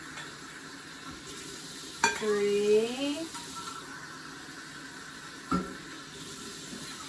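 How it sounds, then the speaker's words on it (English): Really hot water runs from a kitchen tap into a measuring cup, a short gush with a rising ringing tone as the cup fills, heard under brief talk in a home kitchen. "All right, 4 cups of really hot water"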